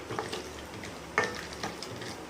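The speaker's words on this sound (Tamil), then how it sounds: "இப்போ வந்து அதை முந்திரி பருப்பு போட்டு வறுக்கிறோம் முந்திரி பருப்பு நல்லா வறுத்துக்கிறோம்" Cashew nuts fry in a pan, giving a soft, quiet sizzle broken by light scraping stirs and small clinks.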